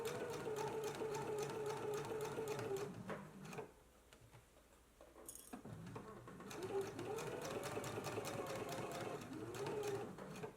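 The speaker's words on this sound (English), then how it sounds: "we're going to go to the sewing machine and do a stitch in the ditch" A sewing machine stitches in the ditch along a seam of a girls' and misses' dress, two steady close runs of rapid mechanical whirring separated by a short pause with faint handling.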